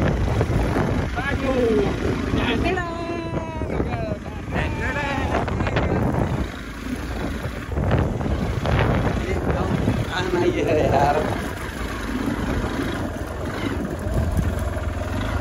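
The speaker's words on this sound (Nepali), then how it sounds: "हाम्रो बाइकमा यस्तो तुफान हुँदैछ" Storm-strength wind roars and buffets the microphone over a droning motorbike engine on a ride toward Baglung, Nepal, a constant rushing noise as voices talk through it.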